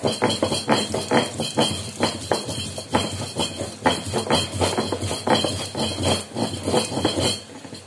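Ginger is ground into a paste with rapid, repeated pounding and scraping strikes, close and fairly loud, in an uneven rhythm.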